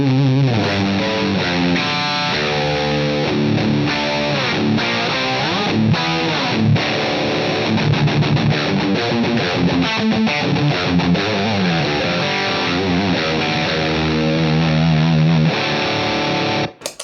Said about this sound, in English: we can do a bit of a blend as well from the two different distortion voicings